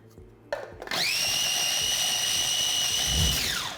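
Kitchen blender whirring through garlic, salt and pepper: a click and a brief rattle, then a loud, steady high-pitched motor whine for about three seconds before it spins down.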